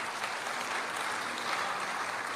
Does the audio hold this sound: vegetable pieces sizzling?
no